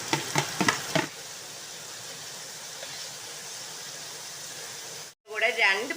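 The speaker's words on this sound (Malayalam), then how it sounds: "ബാക്കി സവാള, കൊച്ചുള്ളി എല്ലാം ഇട്ട് നന്നായിട്ട് വഴറ്റണം." Onions and shallots are sautéed in a pan for a pork fry, giving a steady soft sizzle across the middle after brief talk at the start, with a voice returning near the end.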